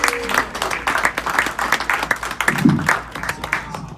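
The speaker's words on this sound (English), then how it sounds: "Give it up for Max Jensen one more time. Come on. Give it up. Thunderous applause." Audience applause for comedian Max Jensen at the end of his stand-up set, a steady wash of clapping that holds for the full stretch with some crowd noise and a brief voice mixed in.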